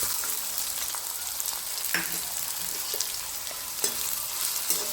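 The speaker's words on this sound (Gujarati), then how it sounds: "હવે તેમાં ડુંગળી એડ કરી દઈશું ચોપ કરેલી." Chopped onion frying in hot oil with cumin, bay leaf, cinnamon, cloves and star anise, a steady close sizzle with occasional spoon stirs and clicks against the pan.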